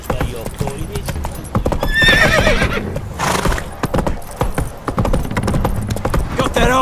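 In the Witcher 3 video game, a horse whinnies loudly and its hooves clop in a steady rhythm across the ground, close and prominent, with spoken game dialogue mixed in.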